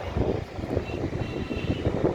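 Wind gusting across an open hilltop at Vellore Fort after overnight rain, a steady low rushing roar buffeting the microphone with uneven swells throughout, no voices.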